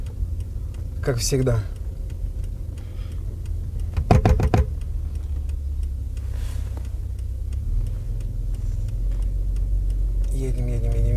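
A car rolls slowly along a crowded street, its low engine rumble steady and close throughout, with a few clicks and beeps inside the cabin and people talking over it.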